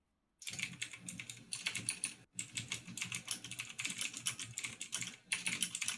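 Rapid, steady typing on a computer keyboard, close and clear, with dense clicking keystrokes running almost continuously after a brief silent start, broken by one short pause.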